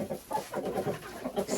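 Chickens clucking close by as a rooster leads a small flock of hens, soft overlapping clucks and calls coming in irregular bursts throughout.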